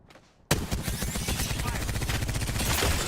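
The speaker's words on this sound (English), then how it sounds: "They're shooting at me" Sudden burst of enemy gunfire in a video game, starting abruptly after a quiet moment and continuing as a loud, rapid rattle of shots.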